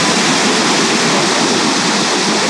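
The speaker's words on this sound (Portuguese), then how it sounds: "Nossa, eu nunca vi uma cachoeira tão grande assim na minha vida. Caraca, é muito forte." A very large, powerful waterfall in Chapada dos Veadeiros, Brazil roars as a dense, loud, steady broadband rush up close, with no other sounds breaking through.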